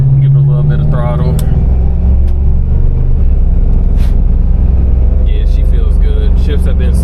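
A 1973 Chevrolet Caprice V8 with cable-driven throttle is blipped, a steady low rumble swelling under the revs and then settling, heard close and loud throughout.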